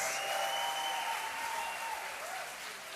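A church congregation claps together in steady applause during a morning worship service, the dense patter holding fairly even for the whole stretch with a faint tonal hum running underneath.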